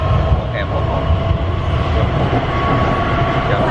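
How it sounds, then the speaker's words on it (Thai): A train pulls away near a hotel in Beijing, giving a steady, loud rumble of rail noise with faint wheel clatter that runs throughout. "นี่ก็คือรถไฟที่ ต้นทางออกจากโรงแรมของเรา"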